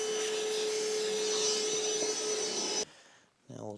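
A shop vacuum runs steadily and loudly, clearing debris during a Honda Fourtrax 300 ATV repair, then cuts off abruptly and a voice speaks briefly afterward.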